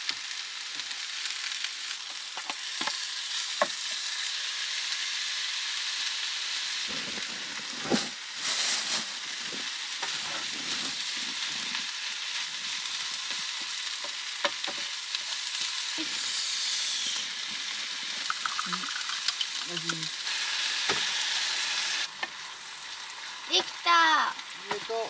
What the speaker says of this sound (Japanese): 野菜とお肉一気に炒めちゃっていい？